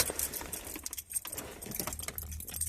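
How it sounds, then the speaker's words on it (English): A bunch of keys jangles and clinks close by in bursts of irregular metallic rattling while someone searches for the right key. "I can find my keys, find the right key here"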